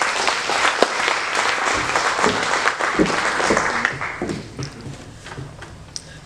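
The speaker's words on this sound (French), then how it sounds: "Donc nous pouvons déjà applaudir" Audience applause at a lecture on Tamil and Réunion Creole, steady dense clapping from a room full of listeners that carries on for several seconds and thins out toward the end.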